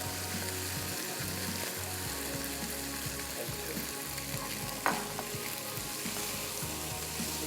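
Sauce sautés in a pan before pasta goes in, with a continuous soft sizzle and bubbling, low hums underneath and a single clink partway through.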